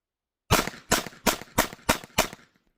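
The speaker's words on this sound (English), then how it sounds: "shooting quick downrange, it stays really, really well on target" Six sharp shots from a Ruger LCP II pistol fired in a quick, evenly spaced burst, loud and close, each with a short decaying tail, then silence.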